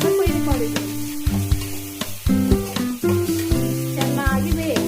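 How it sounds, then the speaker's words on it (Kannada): Chopped tomato frying in a pan for Uttar Karnataka chitranna, with crackling sizzle beneath sharp clinks and scraping of a utensil stirring the pot and strong tonal ringing, close and fairly loud. "ಇವಾಗ ಚೆನ್ನಾಗಿ ಫ್ರೈ ಮಾಡಬೇಕು ಟೊಮೆಟೊ"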